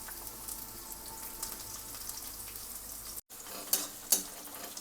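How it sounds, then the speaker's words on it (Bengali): Chopped onion fries in a pan for a Bengali-style paneer hariyali kofta, a faint steady sizzle with a brief dropout and a few louder crackles and stirring clatters near the end. "পেঁয়াজটা ভাজা ভাজা হয়ে গেছে।"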